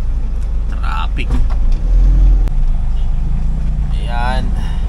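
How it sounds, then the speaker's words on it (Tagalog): Road traffic in Caloocan City is heard from inside a vehicle, with a low engine rumble and passing car noise under a man's speech. "Ayan, traffic. Dito na tayo sa Caloocan City."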